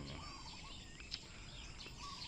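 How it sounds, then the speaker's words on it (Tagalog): Faint birdsong on a quiet rural morning: scattered chirps and tweets drift over a soft background hush, with no clear chicken calls. "maririnig mo lang mga huni ng ibon, mga manok"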